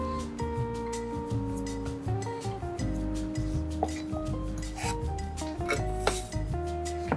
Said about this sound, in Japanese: かぼちゃはこれ、皮をこうやって包丁でそぎながら切っていって